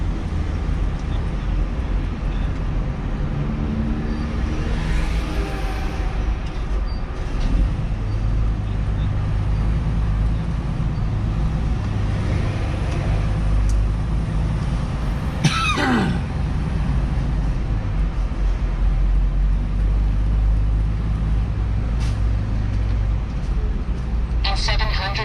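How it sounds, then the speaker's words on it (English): Rush hour traffic in Buffalo rolls past a Freightliner truck cab, a continuous low engine drone and road rumble throughout, with a voice talking and a brief throat clearing around the middle. "we are in Buffalo. Rush hour traffic."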